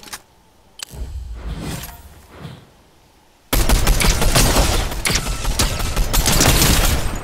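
Gunfire in the Fortnite video game, first a few scattered shots and shuffling, then a sudden loud burst of dense, sustained rapid fire and explosions that fills the second half.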